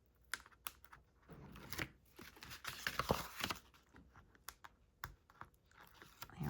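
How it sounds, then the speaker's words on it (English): A wax paper liner peels off adhesive tape during a cardmaking class, heard as quiet, scattered crackles and ticks with brief pauses between them. "We're going to take off the wax paper liner."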